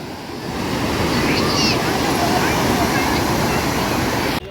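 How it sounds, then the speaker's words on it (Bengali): A steady roar of sea surf rolls in close by at a beach, waves breaking continuously with wind rushing over the microphone. "দেখো দেখো কি ঢেউয়ের আওয়াজ"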